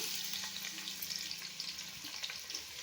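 Sliced onions fry in hot ghee and oil with a soft, steady sizzle and scattered small crackles and pops, close by and quiet, with no voices.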